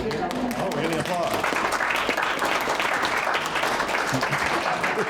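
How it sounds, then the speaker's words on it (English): Applause from a Ho'oponopono workshop audience, a steady patter of clapping with voices talking over it, some hum underneath, lasting several seconds. "Oh, we're getting applause."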